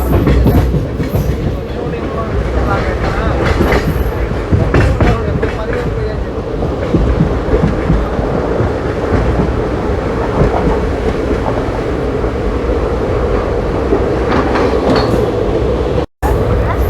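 The Tirupati Chennai Express, train 16204, rumbles along the rails with a continuous heavy roar and faint rhythmic clatter, heard loud from inside the coach, breaking off for an instant near the end.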